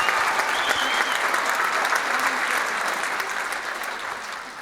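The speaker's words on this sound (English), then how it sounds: "let's give them another round of applause" Audience at a Maid of Petroleum pageant claps in a dense, sustained round of applause that slowly fades toward the end.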